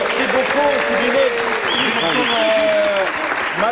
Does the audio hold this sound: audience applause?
yes